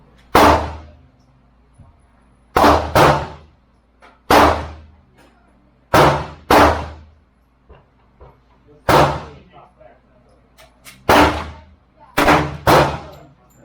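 Sharp, loud gunshots ring out at an outdoor shooting range, eight reports in loose pairs and singles with quiet gaps between them, each followed by a short decaying echo.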